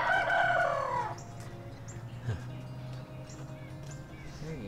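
Chickens in an A-frame chicken tractor, a bird call opening loud then clucks and calls continuing faint over a steady low hum.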